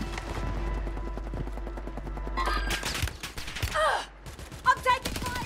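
Rapid gunfire bursts in the video game Warzone, a fast rattling stream followed by louder separate shots and impacts, with a voice heard briefly.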